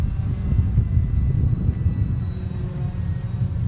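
A model aircraft flies at the AIAA Design/Build/Fly competition, its steady motor drone rumbling on without a break for the whole stretch, with no talk.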